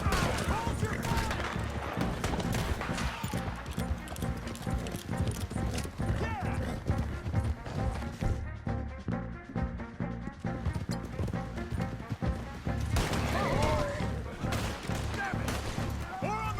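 Shootout in Red Dead Redemption 2 with rapid, overlapping gunshots cracking throughout amid horse hoofbeats and shouting voices, loud and chaotic, easing briefly in the middle before another burst of fire.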